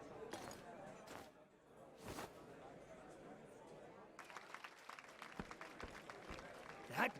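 Cheering crowd in the role-playing game Octopath Traveler 2, scattered claps and murmuring bursts that swell into brisker applause near the end, fairly quiet and mixed with game ambience.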